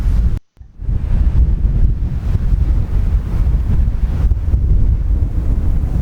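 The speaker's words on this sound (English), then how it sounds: "It was a lot windier than the previous days." Strong wind buffets the microphone on a Shetland beach, with surf rumbling close by. It makes a loud, continuous, low roar that barely lets up, broken only by a brief dropout near the start.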